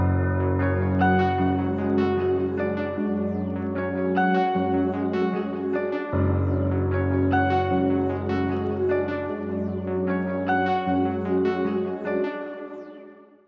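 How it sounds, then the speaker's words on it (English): A melody on a jazz guitar octave preset from the Omnisphere software synth, in a hard ambient beat, plays alone for about thirteen seconds: layered sustained chords and plucked octave lines over a low bass, steady and full throughout. "I went to Omnisphere again and used this jazz guitar octave preset right here."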